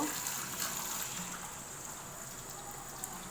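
Tap water runs steadily while lentils are washed, a close, continuous splashing hiss that stays even throughout without pauses.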